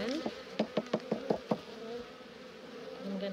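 A few sharp buzzy bursts of honeybees in quick succession, then a steady low hum of the bees close by.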